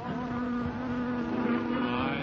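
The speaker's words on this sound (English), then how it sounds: "Oh, there's a bee." A bee drones steadily in a scene from the 1947 musical comedy film The Road to Hollywood, a close, continuous nasal buzz with a slightly wavering pitch.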